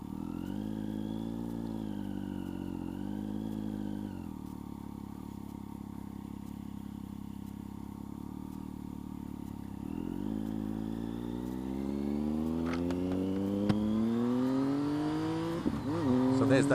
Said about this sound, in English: So there's that fantastic engine noise which those cans give you